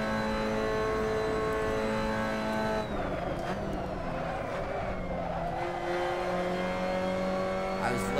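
Mazda MX-5 race car in a sim racing game, its engine droning steadily with shifting pitch as it brakes and downshifts into a corner, loud and continuous with no voice over it.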